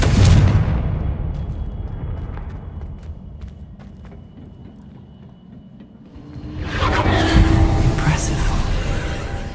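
A Confringo spell explosion in Hogwarts Legacy booms loudly at the start, fades into a low rumble, then a second heavy blast surges near the end.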